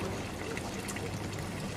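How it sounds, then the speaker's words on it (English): Water from a public drinking fountain in Venice runs in a steady stream that trickles and pours continuously, quiet and close, with faint background ambience. "they replaced them with fountains, and you can even see the water's drinkable"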